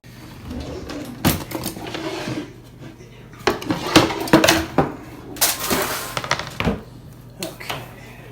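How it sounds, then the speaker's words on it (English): A wooden cutting board pulled out and set down while cooking pork tenderloin at a Kamado Joe grill: several sharp knocks and clatters close by, with quieter handling noises between them. "Get our cutting board out."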